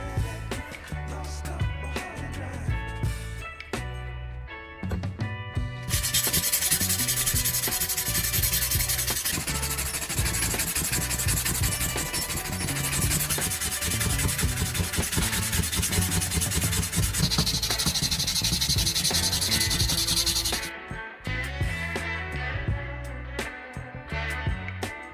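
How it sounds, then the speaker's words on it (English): An axe blade is sanded down to clean, shiny metal: a steady, close abrasive rasp runs continuously for about fifteen seconds over background music, which continues alone before and after. "Sand one side until the metal starts to shine, then flip the axe and sand the other side the same way."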